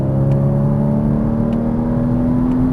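A Porsche Cayman S engine drones steadily as the car is driven on a track, a loud, close, even hum with a slight rise in pitch and no voices.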